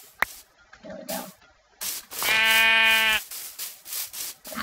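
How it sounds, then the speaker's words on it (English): A sheep bleats in Minecraft: one loud, wavering bleat lasting about a second, set between short game clicks and scuffs with no speech. "I'm gonna need to kill some sheep."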